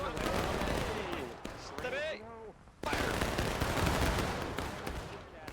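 Rifle gunfire in a Civil War video game crackles in dense volleys and scattered shots, loud and continuous apart from a short lull, while a voice talks over the battle.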